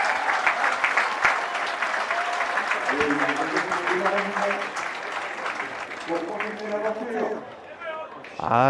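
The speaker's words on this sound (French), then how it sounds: "le public hein, qui a énormément applaudi Laurent Dumont" Spectators at a French individual men's pétanque championship semi-final applaud a shot, dense sustained clapping from a crowd with voices talking over it throughout.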